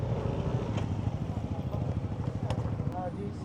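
Motorcycles idle and rumble at a ferry terminal entrance, with a low, pulsing engine chug filling the clip while voices talk over it and brief clicks and clatter cut through.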